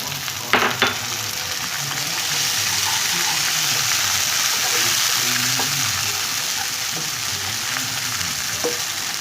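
Onions frying light brown in a pan for daal palak as ginger and garlic go in: a steady, close sizzle throughout, with a few stirring clicks near the start.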